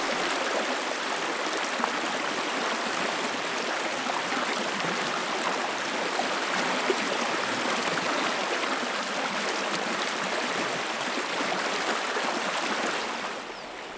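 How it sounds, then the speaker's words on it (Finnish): A small forest brook runs beneath wooden duckboards on a hiking trail at Koli in Finland, giving a steady, even wash of trickling, burbling water that continues unbroken and close for the whole stretch. "Siinä Pitkosten alta juoksee pieni puro"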